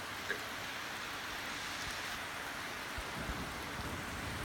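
Heavy rain from a severe thunderstorm in Halberstadt, a dense continuous hiss of downpour on surfaces with faint low rumbles, no voices.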